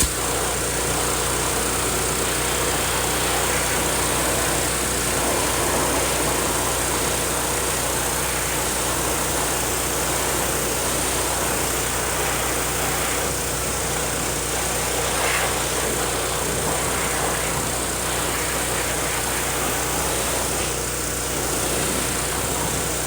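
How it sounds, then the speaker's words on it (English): A gas-powered pressure washer engine runs steadily while a car wheel is cleaned, a constant loud droning hum with no pauses. "I'll come back through with the pressure washer, hit it real quick, get the bulk of the material off"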